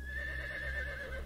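A horse gives a sustained whinny lasting just over a second, a thin wavering tone heard up close over a steady low background.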